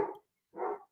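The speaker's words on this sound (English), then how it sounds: "What's that? Is that your dog?" A pet dog at home gives two sharp barks, spaced apart with a short silence between, fairly close and clear with no talk over them.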